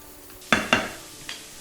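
Chopped tomatoes tipped into a pan of frying onions for a turnip and greens saag land with two quick sizzling splashes, followed by a fainter clatter as the mix is stirred, close and with no talking.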